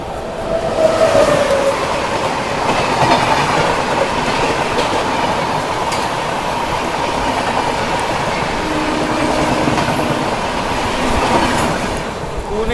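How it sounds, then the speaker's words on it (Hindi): AC Duronto Express train from Pune to Hazrat Nizamuddin passing close by, a loud continuous rumble of rail wagons with rhythmic clickety-clack of wheels for the whole stretch. "सामने से आ रही है पुणे से चलकर हज़रत निज़ामुद्दीन की ओर जाने वाली AC दुरंतो एक्सप्रेस"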